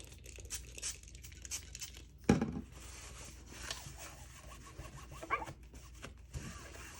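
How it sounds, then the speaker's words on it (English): A dog barks at a person at the door during a crafting session, giving one sharp loud bark mid-clip amid soft rustling and crinkling of paper and packaging, with a few fainter bursts later. "she decides to bark every single time there's a person at the door"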